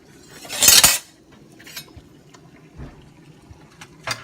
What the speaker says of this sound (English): So I'll first put the egg into the water with salt.